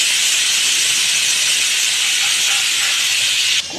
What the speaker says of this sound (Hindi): कुकर की सीटी उठाई तभी इसमें सीटी आएगी। हाँ, बड़ी भाप लग रही है।